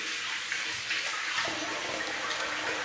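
Running tap water pours steadily into a sink for a rinse after a wet shave, a continuous bright splashing wash with no voices over it.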